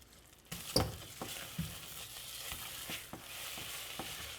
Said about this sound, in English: And you're going to dump it all in at once, and then we're going to stir really fast.